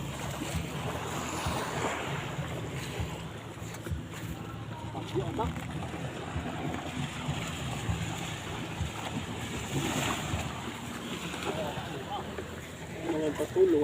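Gusty wind buffets and roars over crashing surf, loud and continuous with bursts of microphone noise.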